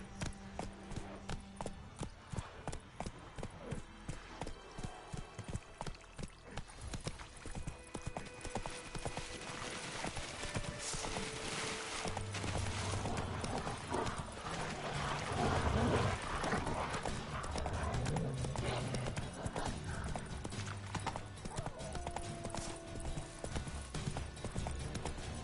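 Horse hooves clip-clop in a steady galloping rhythm in the video game The Witcher 3: Wild Hunt, loud and continuous, with game sounds and brief voices over it.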